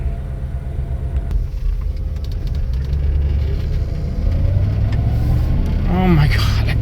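A Mercedes car with a repaired idle control unit drives off on a test spin, its engine rumbling steadily and rising slightly as it pulls away, with a voice talking over it.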